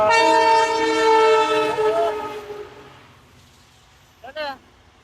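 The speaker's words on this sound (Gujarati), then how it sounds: "ટ્રાફિક થઈ ગયો રેલગાડી આવે છે રેલગાડી તમારે જોવી જો આવે હો બુમરાટા બોલાય" A train horn blares loudly for a couple of seconds, fades as the train rumbles on, then gives a short second blast.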